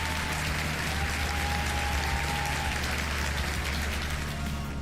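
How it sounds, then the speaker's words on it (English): Applause during a live Farming Simulator 22 stream, a steady, dense patter of clapping that holds evenly throughout at moderate level, with no talking over it. "Real round of applause for Big E Farming."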